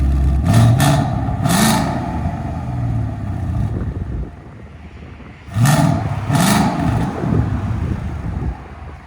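A 2015 Ford Mustang GT with its 5.0L V8 and exhaust valves closed, running through the mufflers, revs in two loud bursts separated by a few seconds of lower idle rumble, recorded close by.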